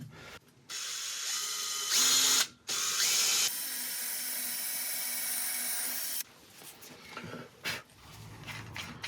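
A power drill with a 10mm bit whines at high pitch drilling a hole in wood, in a few bursts with a long continuous run in the middle, then quieter clicks and handling noises.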